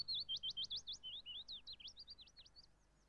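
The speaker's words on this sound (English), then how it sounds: "Only in larger gardens are you likely to hear the song of willow warblers" Willow warbler song in a large garden: a clear, bright cascade of sweet descending phrases repeated steadily, moderately near and alone.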